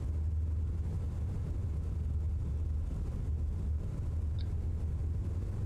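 A single-engine Piper PA-28 light aircraft in Microsoft Flight Simulator 2024 drones steadily at an airfield, a loud continuous low engine hum with no breaks and no talking.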